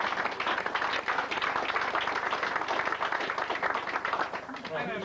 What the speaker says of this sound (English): Can we have a round of applause, please, gents?